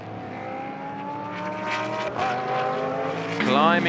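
A Nissan GT race car leaves the pits during free practice at a Moscow circuit, its engine note droning and rising through gears, with a commentator talking over it throughout.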